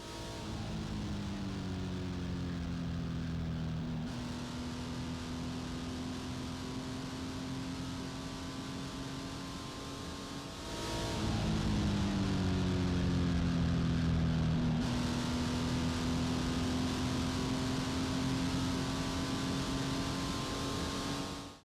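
A race car's engine drones steadily through turn 9 at speed at Willow Springs Raceway, the pitch dipping briefly and then climbing again as it accelerates out, loud and continuous with no voices.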